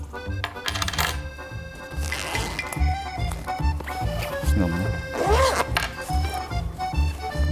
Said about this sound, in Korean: 쓰다 남은 동전이 들어있고